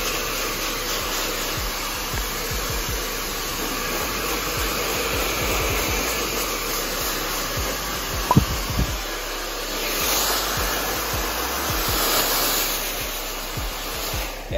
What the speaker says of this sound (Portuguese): vou secar no ar quente aqui